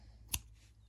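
A single quick snip of scissors cutting through crochet yarn, crisp and close, standing alone against a quiet background.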